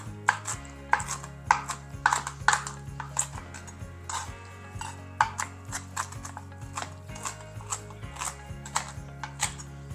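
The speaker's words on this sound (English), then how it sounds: "you can just run a knife through it, which is what I'm gonna do today." Knife chopping cooked bacon on a board for a cowboy pasta salad, a steady run of sharp, close taps in quick rhythm, heard alone without talk.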